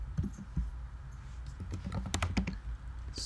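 A computer keyboard being typed on in PowerShell, a quick close burst of clicky keystrokes that clusters tightly toward the middle, over a low background hum.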